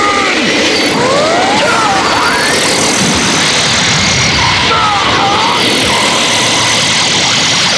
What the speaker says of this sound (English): Now, Piccolo, do it! Special Beam Cannon!